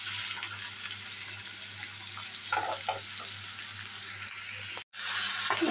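Onion pieces and green chillies frying in a pan produce a close, continuous crackling sizzle with some stirring scrapes partway through, briefly cutting out before the sizzle resumes.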